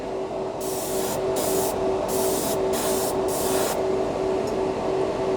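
Harbor Freight's cheapest airbrush and compressor combo spraying paint: five or six loud hissing bursts of air and paint, stopping and starting at an uneven pace, over a steady close compressor hum.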